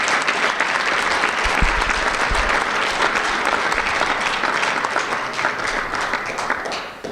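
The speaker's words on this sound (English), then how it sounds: "So please thank our sponsors with applause as well." Audience at a 2013 ADAO conference brunch applauding the sponsors, a full, sustained round of clapping that holds steady and close before tapering slightly at the end.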